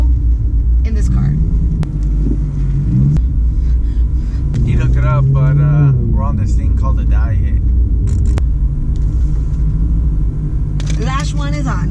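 BMW M3 with a loud exhaust rumbling at close range inside the cabin, a deep steady engine drone under frequent conversation between the occupants.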